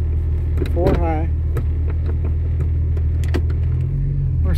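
A 1996 Jeep Cherokee XJ in four-high pushes through mud, its engine a loud, close, steady low rumble with clunks and rattles from the cabin, while a voice speaks over it briefly.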